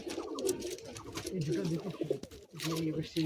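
A pair of Madrasi high-flying pigeons released from a cage coo nearby in low, throaty, rolling calls that repeat and overlap, with a brief pause before the cooing resumes.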